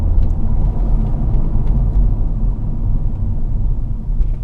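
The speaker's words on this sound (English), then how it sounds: "I press in the clutch and the brakes at the same time" A manual car rolling to a stop with clutch and brakes pressed together, a steady low engine and road rumble filling the cabin, loud and constant with no voices.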